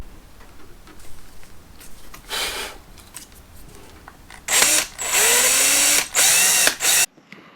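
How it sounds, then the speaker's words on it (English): Power screwdriver spinning screws out of a cover on a 7-inch touchscreen car navigation unit, several short whirring bursts growing louder and closer, the last ones long and sharp before stopping abruptly. "so I'll just unscrew that and have a look"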